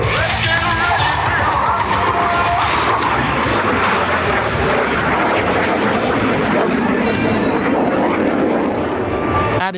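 A Dassault Rafale fighter jet roars loudly and continuously overhead at the Sola airshow in Norway, a dense broadband engine rumble with crowd noise and talk mixed in.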